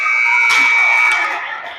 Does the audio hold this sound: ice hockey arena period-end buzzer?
yes